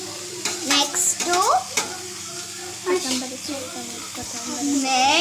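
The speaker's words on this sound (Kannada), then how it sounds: "ಇವಾಗ ನಾವು ಕ್ಯಾಬೇಜ್ ಹಾಕೋತಾ ಇದ್ದೀವಿ" Cabbage stir-fried in a hot pan gives a steady close sizzle, with scraping stirs and clinks from the utensil against the pan recurring throughout, and a few bits of voice over it.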